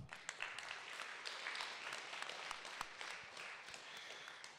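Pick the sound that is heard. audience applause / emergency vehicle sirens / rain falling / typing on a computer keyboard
audience applause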